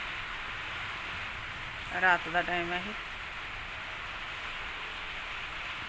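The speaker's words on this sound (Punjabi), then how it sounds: "ਮੀਂਹ ਆ ਗਿਆ ਜੀ ਅੱਜ ਫੇਰ ਆਪਣੇ" Steady rain hisses throughout at moderate loudness, with a person speaking briefly over it partway through.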